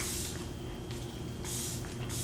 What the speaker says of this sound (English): I'm just gonna spray one more time to set the babies.